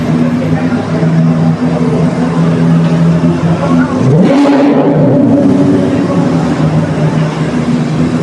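Lamborghini supercar engine at a Retro Havoc car event, a steady rumble with a rising rev and pass near the middle, over constant crowd and engine noise, with voices in the background.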